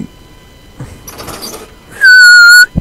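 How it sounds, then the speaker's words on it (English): A single sharp, high whistle blast in GTA 5 Online sounds loudly for about half a second near the end, after some soft rustling. "Okay, whistle blowed."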